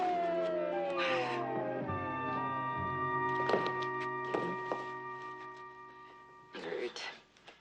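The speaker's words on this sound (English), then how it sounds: "And there's the ambulance." Ambulance siren wailing at a distance, a steady tonal cry running under quiet, intermittent talk and a few soft knocks.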